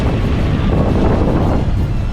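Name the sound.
sea waves hitting a boat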